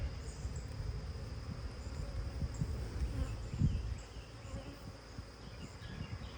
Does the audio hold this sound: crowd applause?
no